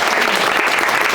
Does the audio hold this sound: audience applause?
yes